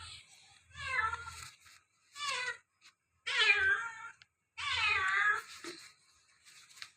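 A cat meows repeatedly, four or five drawn-out, rising and falling cries separated by short silences, fairly close but not loud, with faint low background rumble.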